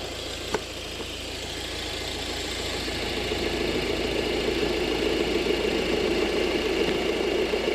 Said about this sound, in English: Definitely some kind of bearing noise there.